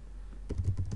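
Quiet room tone, then a burst of rapid keyboard clicks starting midway, several keystrokes in quick uneven succession, close up.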